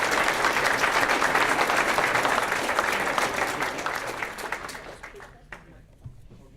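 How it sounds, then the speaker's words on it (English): A crowd at the dedication of the Clint Callicott Arena gives a round of applause, dense clapping that starts full and gradually thins and fades over about six seconds, ending in a few scattered claps. "they need a round of applause"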